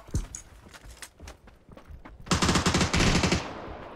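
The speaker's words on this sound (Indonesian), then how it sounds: "Aku ditembak dari kanan loh." Rapid bursts of automatic gunfire in a video game shooter, scattered single shots early on, then a loud sustained volley near the end, heard alone without talk.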